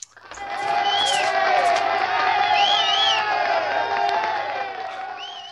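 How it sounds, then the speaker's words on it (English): A large crowd shouts and cheers in a sustained roar with whoops rising above it, steady and loud from start to finish, with no clear speech. "What means this shouting?"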